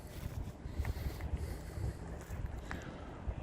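Gusty wind buffets the microphone in a steady low rumble outdoors in a park in Moncton in late February, with a few faint clicks and no talking.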